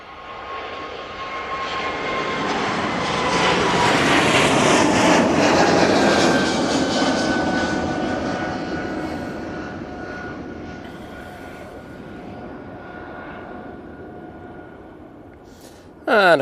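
An Airbus A220 jet airliner at Manchester Airport roars on its takeoff run, a broad engine rumble swelling loudly over several seconds, then fading as it climbs away into the distance.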